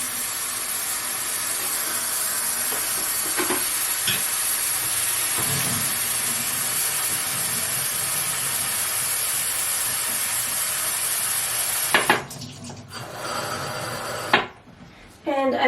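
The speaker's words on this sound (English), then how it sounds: "I just pop it in my watering can and fill it up" Water pours steadily into a watering can as it fills, a constant loud hissing rush that stops abruptly near the end, followed by a brief clatter and a short burst of pouring.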